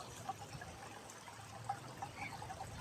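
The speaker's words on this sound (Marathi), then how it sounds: "हे बघा इथे खळखळ वाहणारं पाणी यार" A babbling stream flows during the monsoon, faint and steady gurgling and trickling water with small splashes, heard from a little distance with no voices.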